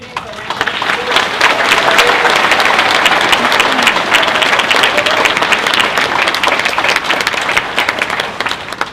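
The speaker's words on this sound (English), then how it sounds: "Please join me in giving our second group of students a round of applause." Loud, sustained applause from a crowd at a white coat ceremony for a medical school's second group of students, dense clapping holding steady for the full stretch with no voices over it.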